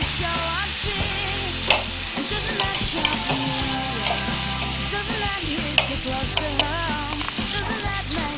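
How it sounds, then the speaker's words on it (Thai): Pork belly stir-fries in a hot pan over high heat, a loud steady sizzle with scraping stirs and occasional utensil clicks, no voices. "ผัดหมูหอมสุกพอสมควร"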